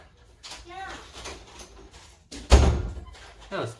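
A sudden heavy thud at a door, loud and close, comes after a stretch of soft talk in the room and is followed by a quieter second bump.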